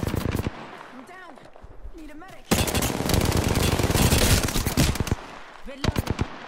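Automatic weapon fire rattles in a fast burst during an Apex Legends match, loud and close, with scattered shorter shots around it and a player's voice talking over parts of the action.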